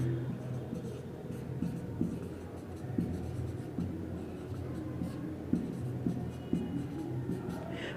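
A pen scratches steadily on paper as a geometry proof about circles and tangents is written out, close and quiet, with small taps and strokes that continue throughout.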